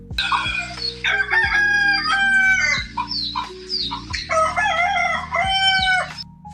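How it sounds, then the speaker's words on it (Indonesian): Several roosters crow loudly and repeatedly, calls overlapping and answering one another, with clucking between the crows. "ayam sudah berkokok, bersaut-sautan dari kandang yang satu ke kandang yang lain"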